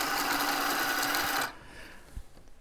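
A sewing machine winding a bobbin, a steady high whirring motor that runs close and loud for about a second and a half, then stops abruptly, leaving quiet room noise and a faint click.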